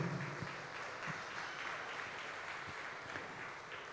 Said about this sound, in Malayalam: Thank you so much for the clap.